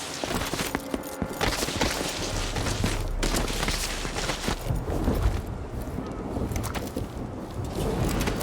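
Gunfire aimed at the player in Dishonored 2, a dense, noisy stretch of crackling shots and booms over a busy game soundscape, loud and close throughout.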